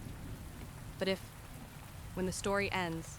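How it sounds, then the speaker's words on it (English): Steady rain falling with a low rumbling wash, a constant broadband hiss beneath a whispered spoken voice telling a scary story, the rain staying even and continuous throughout. "just remember, it's only the rain."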